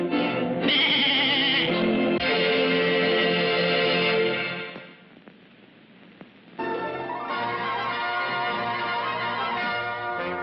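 Sheep in a Mighty Mouse cartoon bleat loudly and repeatedly, a wavering chorus layered with bell-like ringing that drops away to near quiet in the middle before picking up again.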